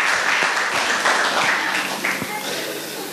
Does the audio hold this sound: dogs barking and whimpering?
no